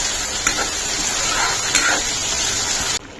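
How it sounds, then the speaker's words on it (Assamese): Masala spices frying in a pan in a home kitchen, a steady broad sizzle with a few faint clinks, continuing for about three seconds before cutting off. "এইফালে মই মছলাটো ভাজি লৈছোঁ"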